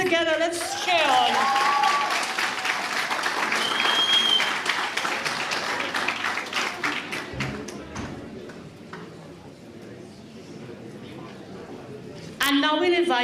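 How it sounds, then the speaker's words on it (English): An audience at a school graduation ceremony applauds in a dense, sustained burst that gradually thins and fades, with a voice speaking over the start and again at the end. "Come on, put your hands together, let's cheer on."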